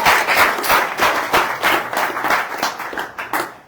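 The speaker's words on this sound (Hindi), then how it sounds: "मैं चाहता हूं आप अपने लिए तालियां बजाएं" Members of an apostolic church congregation clapping in rhythmic, pulsing bursts, individual claps standing out in a loose beat, close and moderately loud, fading at the end.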